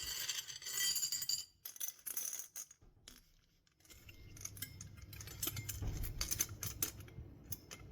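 Small clay, red scoria and polished white pebbles drop into a tiny glass skull terrarium, giving close, bright clinks and rattles in quick clusters, with a quieter gritty pour in the second half.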